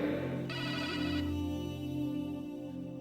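A phone ringtone plays loudly and steadily, an electronic ringing melody with bright tones that shift partway through, no voices over it.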